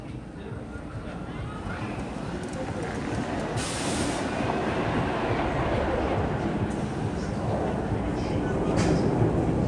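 A roller coaster train rumbling and clattering along its track near the station at Six Flags Great Adventure, a loud, steady roar that builds slightly and continues for the whole stretch.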